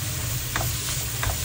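Garlic sizzles in hot oil in a pan, a dense close crackling hiss with a few soft stirring scrapes, no talking over it.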